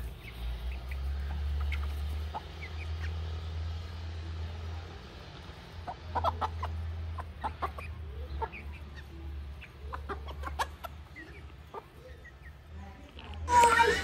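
Fighter chickens on a farm clucking softly and intermittently close by, with scattered scratching sounds over a low background hum.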